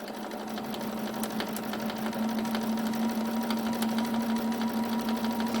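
A BERNINA sewing machine with an edgestitch foot runs steadily while stitching in the ditch of a quilt, a close continuous whirring hum with a fast rhythmic needle clatter and no talk.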